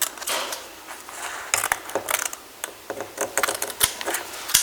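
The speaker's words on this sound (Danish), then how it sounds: "Så klipper fra midten og ud mod de hjørner, jeg har lavet." Scissors snipping through wallpaper around the corners of a light switch, a run of close, crisp clicks and cuts in irregular bursts over a quiet background, with no talking.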